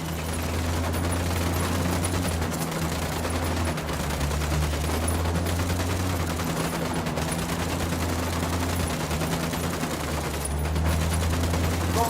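Sustained automatic gunfire in Ghost Recon Wildlands, a loud continuous rattle of rapid shots over a low droning hum, unbroken for the whole stretch.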